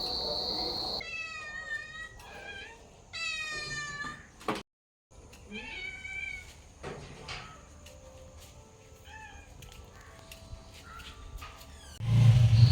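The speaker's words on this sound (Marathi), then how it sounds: "तर आता तुमका दाखवतंय आमच्या मांजरांची गंमत." Two cats at a home in Kasal meow repeatedly, close by, in short rising and falling cries, some in quick bursts, with a brief silent gap and faint background noise between.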